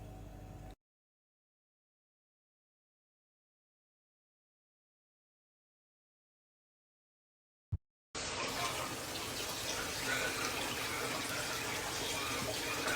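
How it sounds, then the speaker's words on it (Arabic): Water is poured into a pot of majboos simmering on low heat. After a long silence and a brief click, a steady splashing gush starts and runs to the end. "فبزيده بعد شوية ماي"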